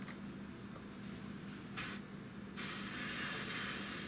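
A Guns PS290 trigger-action airbrush sprays paint for black basing, a steady close hiss that swells louder in a brief burst midway and then holds strong and continuous to the end.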